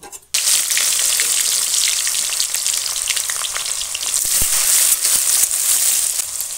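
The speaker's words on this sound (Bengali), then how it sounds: "এবার তেলের মধ্যে দিয়ে আলু ভেজে নেব।" Salted potatoes drop into hot oil and fry, a loud, dense, steady sizzle that starts abruptly and carries on with small crackles and pops, with no talking.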